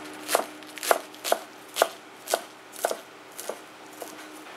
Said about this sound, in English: Cut the cabbage head into shreds.